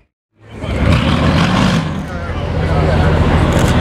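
A Mercedes SL65 AMG Black Series engine bursts into a loud, sustained roar under heavy throttle after a brief silence, dipping slightly before surging again, with people talking nearby.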